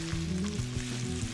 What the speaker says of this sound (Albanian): Perimet kanë fillu që të skuqen